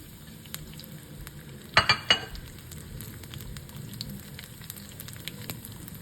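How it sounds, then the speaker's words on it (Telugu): Dried red chillies and onions go into hot oil already tempered with mustard and cumin seeds, giving a quick burst of crackling sizzle over a quiet, steady background fry. "ఎండుమిర్చి కూడా వేస్తున్నాను ఉల్లిపాయలు కూడా వేస్తున్నాను"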